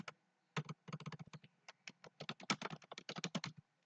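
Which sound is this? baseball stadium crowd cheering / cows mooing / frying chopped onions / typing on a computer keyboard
typing on a computer keyboard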